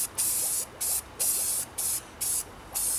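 An aquarium is spray painted in light coats, with six short bursts of aerosol hiss in a regular stop-start rhythm, close and clear with no talking.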